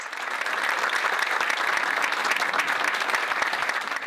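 A crowd at a book launch applauds steadily for several seconds, a dense, even patter of many hands clapping at moderate volume.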